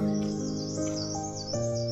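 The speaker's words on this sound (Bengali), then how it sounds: "পাখি ডাকছে, নিস্তব্ধ চারিদিক" Birds call in the stillness of a monastery road at Jaubari in South Sikkim, bright chirps and short rising tweets that repeat over a few seconds against a quiet background.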